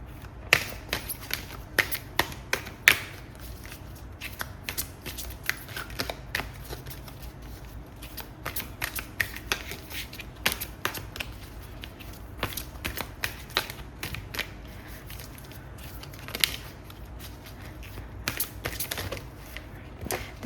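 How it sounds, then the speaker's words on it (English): Oversized tarot cards shuffled clumsily by hand, soft papery flicks and sharp taps scattered irregularly throughout, quiet and close with no talking. "This shuffling is really clumsy because these cards are far too big for my hands"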